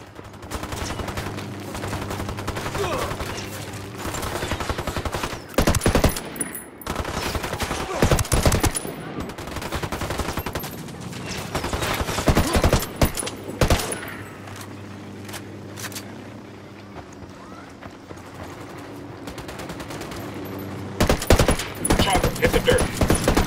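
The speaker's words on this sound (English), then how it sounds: "Those Sicarios are shooting the hell out of this emitter." Enemy gunfire from Sicario gunmen in the tactical shooter Ghost Recon Wildlands, loud sustained automatic bursts with sharp single shots, continuing in waves with brief lulls.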